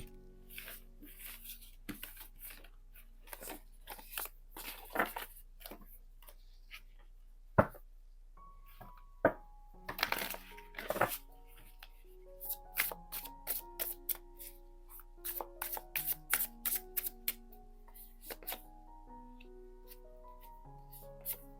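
Tarot cards are shuffled and handled close up in a quiet room, a series of crisp riffles, flicks and taps with brief pauses between bursts.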